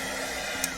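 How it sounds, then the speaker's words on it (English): A hair dryer blows steadily and loudly up close, drying napkins glued on with Mod Podge for a Dollar Tree room decor craft, a continuous airy whoosh with a tiny click near the end. "then dry it with my dryer"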